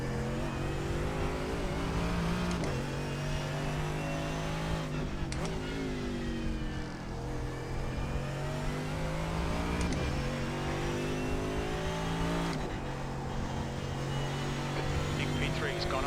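A Mercedes AMG GT3 race car engine in iRacing at Road America holds a steady high drone, rising through the revs and dropping at gear shifts, with continuous whine and road noise and a voice talking over it.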